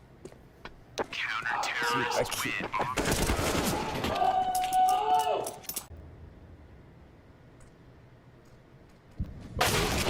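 Rapid gunfire bursts from a professional Counter-Strike match between Astralis and OG at BLAST Premier Spring Groups 2023, cracking loudly in clusters over excited commentators talking almost throughout.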